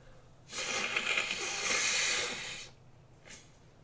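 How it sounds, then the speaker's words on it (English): A person blowing their nose: one long, forceful nasal blast lasting about two seconds, close and fairly loud, followed by a short second puff. "I'm gonna blow my nose"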